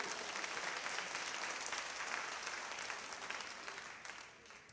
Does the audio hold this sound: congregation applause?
yes